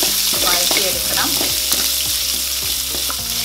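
Onions with garlic, bay leaf, clove and cinnamon sauté in hot oil, a loud continuous close sizzle with light rhythmic scraping and clicking of a spoon throughout.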